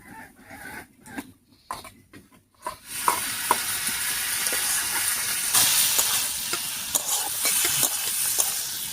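Onion, ginger and garlic frying together in a pan, starting with a few scattered scraping clicks before breaking into a loud, continuous close-up sizzle punctuated by occasional stirring taps.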